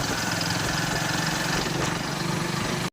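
A tractor engine runs at a steady idle on a farm, a loud, close, continuous throbbing rumble with no pauses and no talk over it.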